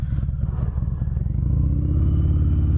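A 2019 Harley-Davidson Fat Bob 114 motorcycle rumbles close by with a deep, loping V-twin beat, then its engine note rises and smooths out as the bike pulls away under throttle.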